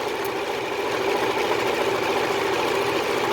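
Stitching down the full length of a fabric dog lead, a sewing machine hums in a rapid, regular chatter, steady and close throughout with no speech.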